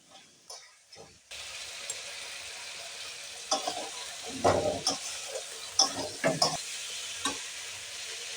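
Prawns sizzle steadily in a pan as coconut milk is poured in for prawn malai curry. Stirring adds intermittent scraping and bubbling bursts over the constant close frying hiss.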